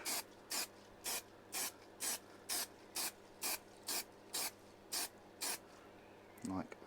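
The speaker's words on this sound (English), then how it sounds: "so this is 3M Super 77 spray adhesive" A can of 3M Super 77 spray adhesive gives eleven short, evenly spaced hissing bursts at close range while coating part of an HO scale steampunk train diorama, with a brief voice at the very end.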